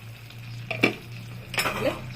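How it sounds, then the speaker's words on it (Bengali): Mixed vegetable curry is stirred in a pot on the stove, with two scraping strokes of a utensil against the metal over a low, steady hum. "একটু গ্যাসটা বাড়িয়ে দিব, নাড়াচাড়া করব।"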